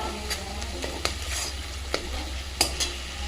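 Softened tomatoes with a little sugar fry in a pan for egg curry, giving a soft continuous sizzle under a low hum, broken by several sharp scrapes and clicks of stirring.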